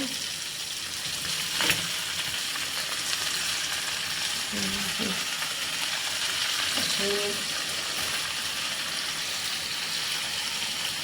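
Okra curry frying in a pan after a carom-seed tempering, a continuous close sizzle over eleven seconds with a couple of faint knocks and brief muffled voice in the background.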